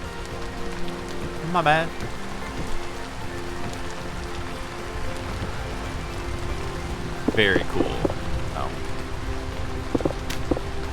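Steady rain falls on the ground in the video game Vintage Story, a continuous soft hiss across the whole scene, with brief voice exclamations and a few short game chimes over it.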